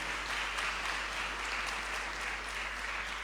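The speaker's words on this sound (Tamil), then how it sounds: "ஒரு கைத்தட்டி அவரை வெல்கம் பண்ணலாம்" A gathered audience claps to welcome a young missionary, a steady, even wash of hand applause, moderately distant and fairly quiet, lasting the whole few seconds without voices.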